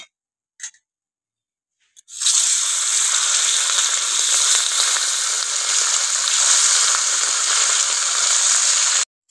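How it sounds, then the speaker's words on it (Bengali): River bata fish frying in hot oil, a loud steady sizzle that bursts in as the fish go into the pan and holds unbroken for about seven seconds before cutting off abruptly. "এবার মাছগুলো ভেজে নেব।"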